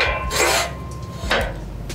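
Metal removable side of a gutter machine reel sliding onto its shaft, giving two short scraping rubs of metal on metal, close and fairly loud, with no voices.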